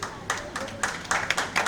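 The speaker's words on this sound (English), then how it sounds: "Big round of applause for her." A few residents at a township inaugural meet in Pune give a brief, sparse round of clapping. Separate claps land in loose, uneven bursts, close and moderately loud.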